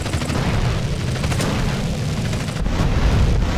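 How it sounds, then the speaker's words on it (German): A loud, rumbling explosion in the GTA San Andreas video game, a sustained booming roar of blast and debris with a couple of sharper cracks toward the end. "der sollte da drüben explodieren und uns keine Sorgen machen eigentlich"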